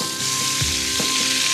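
Meat sears in a hot pan during a cooking class in Venice, a dense continuous sizzle with small crackles and pops, loud and close, no talking.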